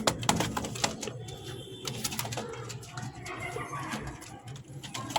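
Sirazi pigeons cooing in a loft, low repeated coos layered with soft rustling and faint background bird calls throughout.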